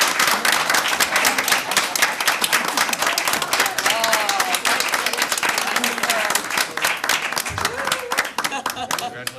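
Board meeting audience breaks into sustained applause and cheering for a team at a town select board session, dense steady clapping filling the room with scattered voices and whoops mixed in throughout.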